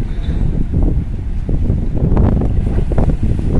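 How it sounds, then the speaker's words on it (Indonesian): Strong wind buffets the microphone at a night-time ferry harbor dock as sea swells roll in, a loud continuous roar with surging low rumbles and no talking. "Untuk laut malam ini ya, alun ya, karena anginnya juga kencang, jadi menimbulkan alun nih."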